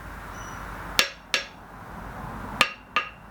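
Four sharp metallic strikes from the faces of a hand-forged 680 gram hammer hung on a seasoned spotted gum handle, arriving in two close pairs, each bright ring decaying quickly against a quiet workshop background.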